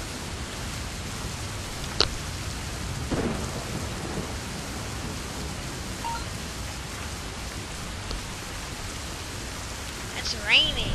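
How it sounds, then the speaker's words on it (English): Steady rain hisses throughout with a few low rumbles of thunder rolling underneath, plus occasional faint sharper sounds. "It's raining."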